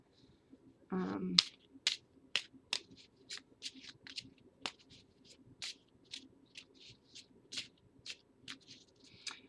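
A Lenormand card deck being shuffled, with a quick dense riffle burst near the start followed by a steady run of crisp, close snapping card flicks at an even rhythm, fairly quiet and with no talk.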